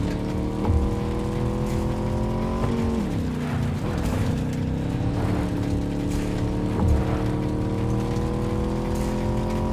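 A car drives through mud in the video game Cyberpunk 2077, with a steady, loud engine drone. Pitch dips and wobbles as the wheels churn, and occasional thumps come from bouncy suspension, continuous throughout.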